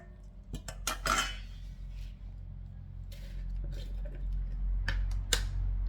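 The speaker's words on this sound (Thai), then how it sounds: "เราก็เอาชามผสมมานะคะ" Clinks and light knocks of a mixing bowl being handled in a home kitchen while preparing a Thai salted egg and sweet radish salad, a few sharp taps early, then softer scattered handling noises over a low steady background hum.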